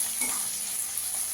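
Chopped onion fries lightly in a pan, a brief steady hiss of sizzling oil with a soft stir, no voices.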